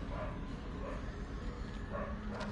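A dog barks repeatedly in a video game, the yaps and whimpers coming in a steady rhythm at moderate distance against a dense background hum, with no talking.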